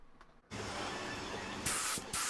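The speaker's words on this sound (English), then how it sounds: "we go ahead and start spraying our first coat of base coat" A spray gun lays base coat on a 1995 Nissan 240sx S14, a steady loud hiss starting after a short pause, growing brighter in two later bursts.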